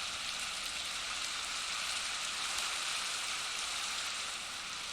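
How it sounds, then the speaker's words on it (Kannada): Rain falls in the Minecraft video game, a soft, even hiss of steady downpour that stays constant and fairly faint throughout, with no voices. "ಮಳೆ ಬಂತು"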